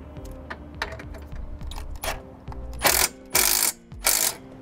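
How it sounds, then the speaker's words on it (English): Wrench ratcheting as bolts holding scissor trailer steps to their brackets on a 2015 Jayco are tightened, loud close clicking bursts in several quick runs, growing harsher toward the end, with no talking. "We will tighten the bolts that hold the steps to the brackets first."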